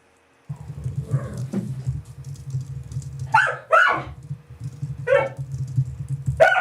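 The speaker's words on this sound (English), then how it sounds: "How bad is the dog barking?" Dogs in Nicaragua bark in loud, close bursts, several sharp yips and barks in quick clusters, over a steady low engine-like hum.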